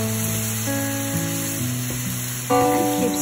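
Sarma cooking juice hits a hot skillet with a steady sizzle and hiss while being stirred, close up, with a louder burst of frying near the end.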